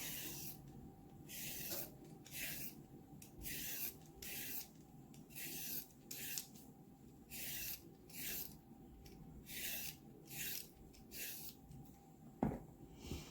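Carrots are peeled with a vegetable peeler in a kitchen, producing a steady series of quick, rhythmic scraping strokes repeated about a dozen times, close and moderately soft, with a brief knock near the end and no talking.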